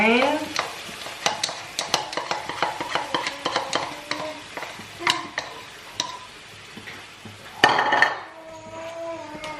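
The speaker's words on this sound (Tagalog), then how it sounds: "ilalagay lang doon sa pinipirito yung chicken. Pinipirito na siya." Chicken frying in a pan with a sauce mixture, with sizzling under a rapid run of utensil taps and stirring clatter against the pan, close and fairly loud.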